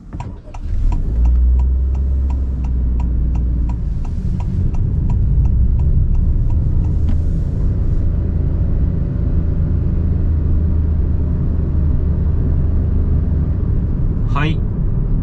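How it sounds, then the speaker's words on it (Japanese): A Honda N-BOX engine drones under hard acceleration, a steady low rumble from inside the cabin. Its pitch rises gradually while faint regular ticking sounds in the first half, and a brief squeak comes near the end. "結構アクセル踏み気味に加速をさせましたけども、まあ、うなりレベルとしてはこんな感じです"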